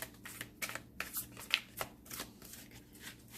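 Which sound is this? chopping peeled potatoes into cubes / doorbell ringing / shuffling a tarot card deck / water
shuffling a tarot card deck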